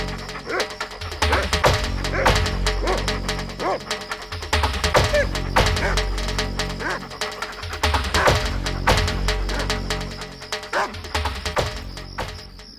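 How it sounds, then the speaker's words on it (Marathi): Several village dogs bark and yip in an excited chase after a fox, with repeated overlapping barks and some whimpering that fill the whole stretch, fairly close and loud. "गावातील कुत्रे गोमायूच्या मागे लागले."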